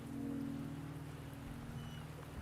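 Soft steady rainfall in the video game Wuthering Waves pours evenly and faintly throughout, with a low constant hum underneath and no voices.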